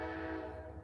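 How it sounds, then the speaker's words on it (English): A train passes by in a steady, continuous rumble with tonal horn-like bands, loud and near throughout, with no talk over it. "the train been passing all day."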